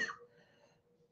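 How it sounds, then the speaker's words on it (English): A single short cough at the start, then near silence, followed by the sharp onset of another cough right at the end. "it looks like the cough's going to kick in here"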